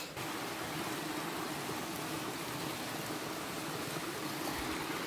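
River water rushing steadily nearby as it is crossed on foot near a waterfall in Serra do Cipó, Minas Gerais, a continuous broadband roar with no voices.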